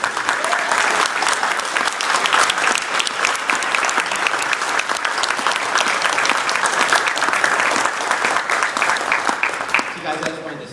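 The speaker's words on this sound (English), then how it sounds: "Let's give them a round of applause." A panel audience at a 20th anniversary event breaks into sustained, loud applause, many hands clapping in a dense, even roar that thins out near the end.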